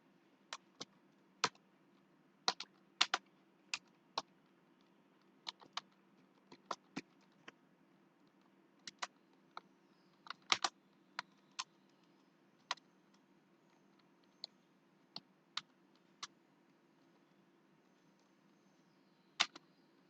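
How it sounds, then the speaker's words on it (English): Clicks of typing on a computer keyboard, heard as sparse, crisp taps in short irregular bursts over a faint steady hum, quiet and close, with no talking. "Okay, so I will be typing here."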